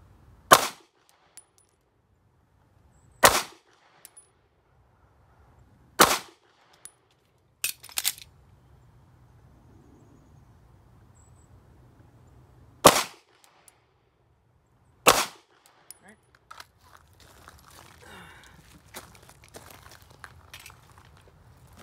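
Pistol shots on an outdoor range during a dot torture drill: six sharp, loud cracks with irregular gaps of a few seconds, and quiet stretches between them.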